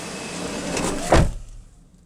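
A Maruti Suzuki Wagon R door swings shut with a single close, light thump, preceded by a brief rush of movement and trailing into quiet.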